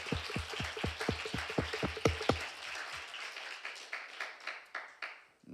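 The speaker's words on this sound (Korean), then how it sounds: "우리 하나님 앞에 큰 박수로 영광 올려드리겠습니다" A church congregation at a Korean Friday worship service claps in praise, first a string of distinct, fairly even claps, then a softer, scattered patter that thins out toward the end, heard at a modest distance.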